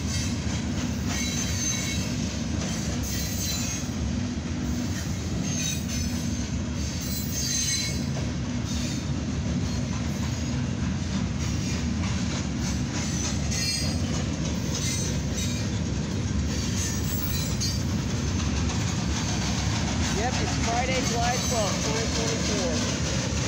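A CSX northbound freight coil train rumbles past continuously at close range, wheels clattering and squealing on the rails, with a voice speaking faintly underneath the loud roar.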